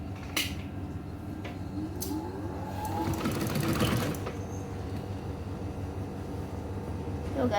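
A sewing machine stitching a fabric purse closed, a steady fast mechanical whir that rises in intensity midway, with a few clicks and handling sounds around it.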